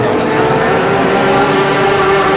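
Racing sidecar outfits of the Formula 2 Grand Prix type run a warm-up lap before the third race, with a loud, steady engine drone and a sustained droning tone that holds throughout.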